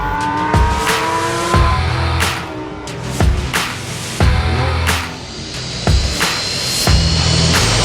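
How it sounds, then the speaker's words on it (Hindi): Three cars approach at high speed, their engines revving and whooshing close by, with tire squeals and sharp impacts recurring in a rapid, loud sequence. "अचानक दूर से 3 गाड़ियां तेज स्पीड से उनकी तरफ आती हुई दिखाई देती है।"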